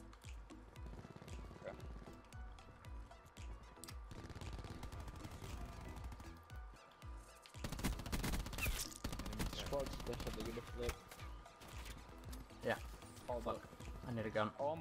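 Rapid automatic gunfire from a weapon in the shooter game Call of Duty Black Ops 4, sustained bursts growing louder in the second half, mixed with game sounds and music while a player talks.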